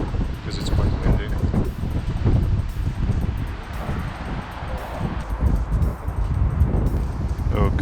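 Strong wind buffets GoPro and lavalier microphones outdoors on a windy day, giving a continuous loud rumble and gusty rustle for several seconds.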